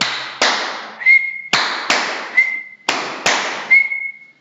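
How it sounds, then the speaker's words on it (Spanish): Hand claps in a repeating pattern, two sharp claps followed each time by a short rising whistle, three cycles in a row, close and loud. "voy a tocar dos palmadas, por ejemplo, ¿no? Y luego puedo hacer un silbido."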